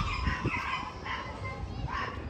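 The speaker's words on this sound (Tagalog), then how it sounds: "Wow, daming aso." Several dogs bark and yip in short bursts outdoors at a hilltop spot busy with tourists, fairly close, over a background of crowd murmur.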